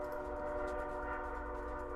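Train passing close by a house, a loud, steady rumble with sustained horn-like tones droning throughout, with no talk.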